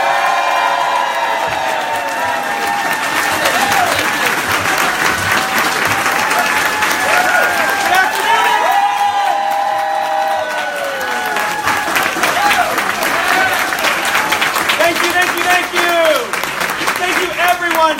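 Sustained, loud applause from a crowd welcoming the incoming mayor of Alexandria, Virginia, mixed with cheers and whoops that continue steadily throughout, with some voices audible in the crowd.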